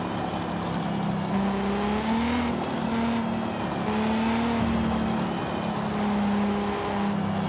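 Nissan R32 drift car engine in Forza Horizon 5, a steady loud drone with shifting revs that rise and dip continuously, tires likely scrubbing, no talk throughout.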